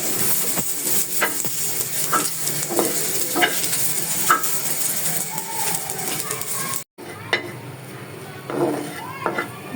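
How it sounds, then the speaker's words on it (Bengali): Garlic and chili fry in mustard oil for a mashed bhorta, a steady crackling sizzle broken by repeated spoon scrapes and stirs against the pan, close and continuous, with a brief dropout near the end. "এটাও আমি হচ্ছে হালকা বাদামি রং হওয়ার আগ পর্যন্ত ভাজতে থাকবো"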